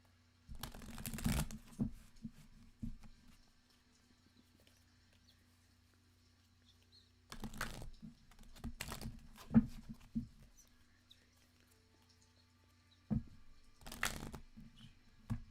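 Tarot cards being shuffled in three short riffling bursts separated by quiet pauses, close and soft, with a faint low hum in the background.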